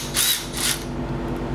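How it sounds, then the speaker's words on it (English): An electric wrench loosening star-bit bolts on a Tesla Model 3 during a white leather interior install gives two short, close, high whirring bursts, then a quieter tail. "electric wrench."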